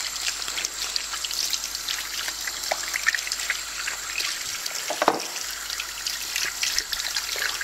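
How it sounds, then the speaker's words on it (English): Omega EUJ-707 juicer parts rinsed under running tap water, a steady trickling stream with splashes and a few light knocks of plastic parts in the sink. "It's just a rinsing process with everything"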